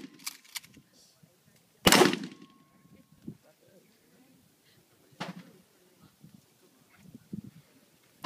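A single loud, close shotgun blast cracks out sharply and rings briefly, followed by a few fainter knocks and clicks, with people chatting in the background.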